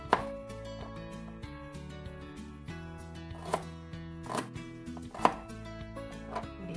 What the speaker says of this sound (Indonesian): sekarang saya akan iris bawang merah